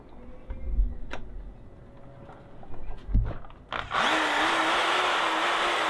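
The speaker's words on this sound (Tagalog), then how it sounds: "Itong barena ay nasa 800 watts to." After a few scattered clicks and knocks, an 800-watt electric drill whirs up and runs steadily at a high pitch, loud and close.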